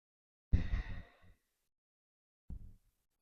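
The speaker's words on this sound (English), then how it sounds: "Breathe." A deep exhale during a seated chair yoga twist comes out as a long, close sigh through the nose and mouth, followed after a pause by a shorter, softer breath.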